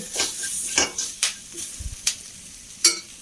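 Curry leaves and spice powders fry in oil for an egg kurma, giving a soft sizzle broken by several short crackling bursts and stirring scrapes.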